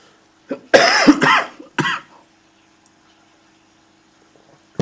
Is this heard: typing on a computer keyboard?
no